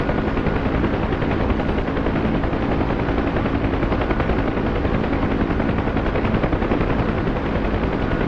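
Continuous dense rattle of rapid helicopter gunfire blended with rotor roar in the DCS combat flight game, loud and unbroken throughout with no pauses.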